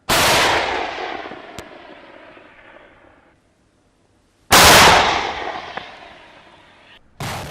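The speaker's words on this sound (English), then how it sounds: "residents of Kherson faced deadly Russian shelling as well" Heavy shelling booms in Kherson, two loud close blasts each fading in a long rumbling decay, a third starting at the end, with a sharp crack between.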